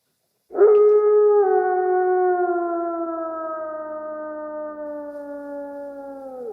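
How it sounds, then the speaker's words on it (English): A single long, sustained howl rises suddenly and holds for several seconds, slowly sliding lower in pitch and fading slightly, clear and alone. "There it is again. The wolf howl calls me."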